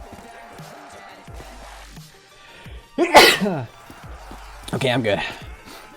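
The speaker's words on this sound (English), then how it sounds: "Oh my god, I gotta sneeze." A single loud, sharp sneeze from a man during a Call of Duty custom zombies game, bursting out over quiet game sounds, with his brief speech before and after it.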